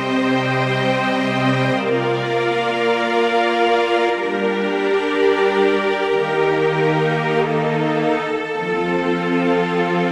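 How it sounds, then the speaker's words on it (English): Orchestral string library with its harsh high end cut by an EQ plugin, playing smooth sustained chords that shift every couple of seconds, warm and full, with no talking. "And then my strings sound like this."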